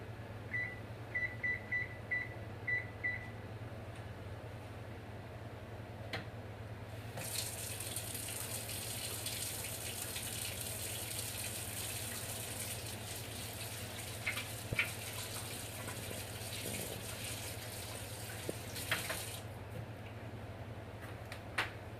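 Hands are washed under a running tap: a steady broadband rush of water lasting about twelve seconds, preceded by a short series of electronic beeps, with a low hum throughout.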